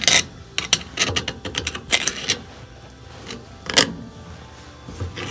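A flathead screwdriver pries a part off a washing machine motor, producing a close series of sharp metallic clicks, scrapes and ratcheting snaps in irregular bursts with brief pauses.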